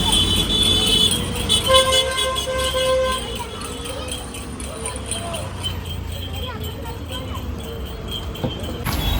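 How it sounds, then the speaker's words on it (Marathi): Road traffic in Mangaon streams past with engine drone, several short car horn toots near the start and a busy street bustle, while people talk over the noise. "ही माणगावची ट्रॅफिक बघा."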